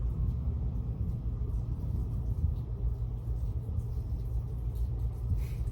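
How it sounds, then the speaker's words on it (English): Low, continuous rumbling, consistent with thunder rolling outdoors, heard faintly and steadily throughout with no voices over it. "It's thundering."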